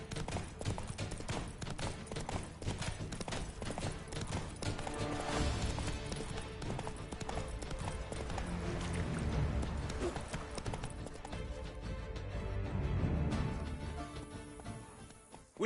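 Geralt's horse Roach trotting in The Witcher 3 video game, a brisk clip-clop of hooves that runs on steadily for the whole stretch, set against game ambience and dense background sound.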